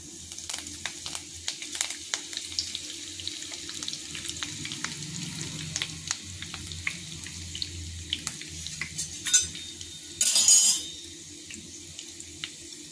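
Cumin, mustard seeds and curry leaves sizzle softly and steadily in hot oil for a Karnataka girmit. There is a brief louder burst of crackling near the end and no talking.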